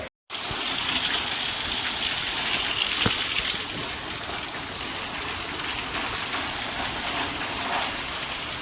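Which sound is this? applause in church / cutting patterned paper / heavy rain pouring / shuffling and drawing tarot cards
heavy rain pouring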